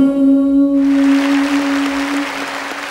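An audience claps after a sentimental Vietnamese ballad. The song's final held note fades under a broad, steady wash of applause that continues to the end.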